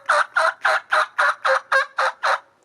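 A mouth call imitates turkey yelps: nine evenly spaced, raspy, nasal notes in a steady, quick rhythm, loud and close against a quiet background.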